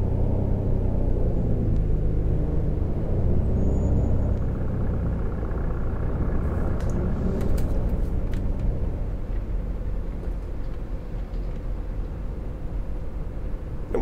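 A MAN Lion's Coach in Fernbus Coach Simulator rolls over cobbles on an Austrian route, giving a loud, continuous low rumble with a steady engine drone throughout and no talk.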